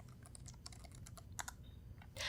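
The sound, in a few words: typing on a computer keyboard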